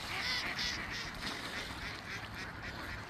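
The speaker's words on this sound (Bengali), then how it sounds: "ও এই যে দুইটা গিজ দেখা যাচ্ছে" Geese honk faintly at a Minnesota lake, a few soft repeated calls carried from a distance over quiet open-air background.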